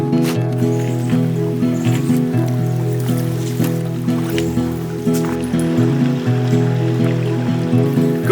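Swan Creek, a stream between Puyallup and Tacoma, flows with a steady gurgling and rushing of water close by. A sustained low hum runs underneath and a few faint knocks can be heard. No one talks.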